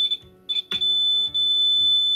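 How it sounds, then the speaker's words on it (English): A multimeter set to continuity buzzes while its probes test connections on a laptop motherboard, giving a steady high-pitched electronic tone broken by a few brief gaps, close and clear. "Okay, do you hear a buzzer?"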